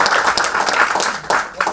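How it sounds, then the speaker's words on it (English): Audience clapping for event sponsors at a leadership talk, a steady close wash of applause with no pauses in the short span. "So would you guys give them a hand clap, please?"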